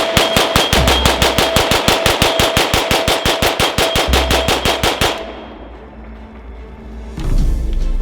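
A WBP Fox AK rifle fires a long, steady burst of rapid rounds, loud and close, with evenly spaced sharp cracks for about five seconds before cutting off, followed by quieter rustling and a thud near the end.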